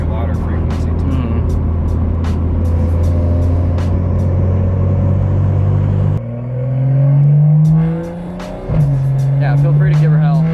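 A BMW M2 fitted with a catless downpipe runs with a deep, loud exhaust drone, then revs up sharply and falls back. The sound is close and continuous.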